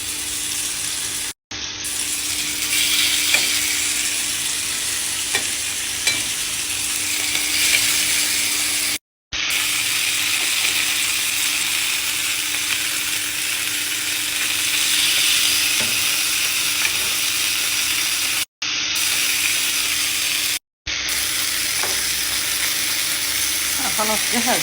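Tandoori chicken sizzles in a hot, lightly oiled pan with a bright, continuous crackle, cut by a few brief dropouts, while someone talks over the cooking throughout.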